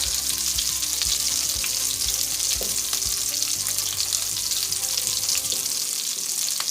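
Vegan potato croquettes fry in a pan with only a thin layer of oil, giving a steady, loud sizzle. Scattered pops and crackles run through it, with no talking.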